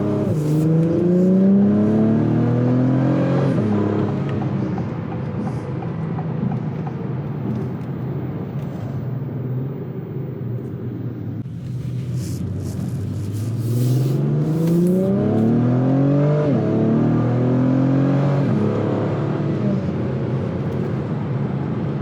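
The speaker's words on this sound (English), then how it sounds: "The exhaust note with those fast shifts" A 2024 Acura TLX Type S in sport mode runs through quick gear shifts, its loud, close exhaust note climbing in revs, dropping sharply at each shift, easing off midway, then climbing again.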